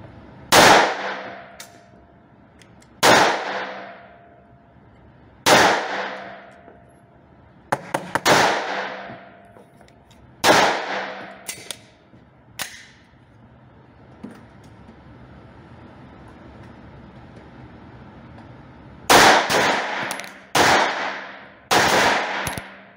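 Gunshots crack at an outdoor shooting range during target practice, loud single shots and quick clusters at irregular intervals, each sharp report trailing a short echo, with a brief quiet stretch before a final rapid volley.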